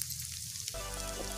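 Senaga vadiyalu, dried chickpea-flour fritters, frying in oil in a pan for an Andhra-style curry. A steady, close hiss and sizzle runs throughout and swells noticeably partway through, with no voices.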